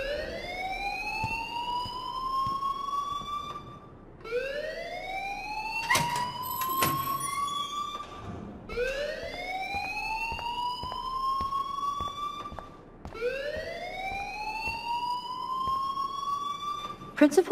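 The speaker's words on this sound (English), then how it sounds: "please turn off that alarm since that's your job." A video game fire alarm in Life Is Strange whoops repeatedly, four rising siren sweeps in a steady cycle, loud and continuous, with a brief clatter in the middle.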